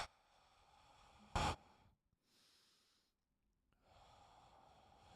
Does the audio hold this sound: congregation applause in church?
no